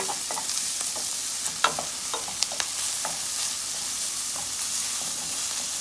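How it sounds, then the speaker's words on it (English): Garlic is stirred into vegetables sizzling in a soup pot. A steady frying hiss runs throughout, with occasional light scrapes and taps of a spoon against the pot and no talking. "I'm gonna go in now with my garlic. We're gonna mix that in."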